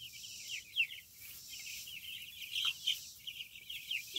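Young chicks in a chicken tractor on a farm, one of about 180 birds, chirp and peep continuously in high bright calls, a steady flock chorus with a few louder close peeps and no talk.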